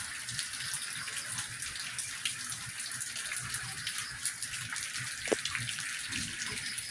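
Steady hiss of heavy rain pouring down, a constant broadband wash with no voices, close and even throughout.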